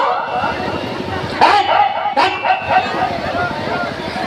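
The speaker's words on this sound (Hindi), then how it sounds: "एक कहीं से कुत्ता आ गया" A dog barks a few times at close range amid background chatter and voices, with sharp yips standing out over the murmur.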